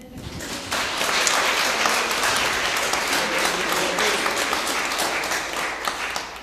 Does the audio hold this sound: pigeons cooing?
no